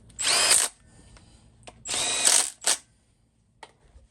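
A power tool drives the top guide bolts on a Ford 5.4 engine in a camper van: two loud whirring bursts with ratcheting, a short third burst, then faint clicks and quiet.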